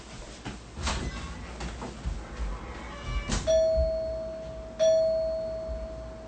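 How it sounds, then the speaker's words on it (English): A doorbell rings twice at home, each press a clear sustained electronic chime that rings out and slowly fades, following a few faint clicks and knocks. "someone's ringing the doorbell"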